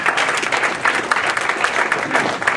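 An audience at a university panel talk applauds, a steady dense wash of clapping from many hands that holds at an even level for the whole stretch.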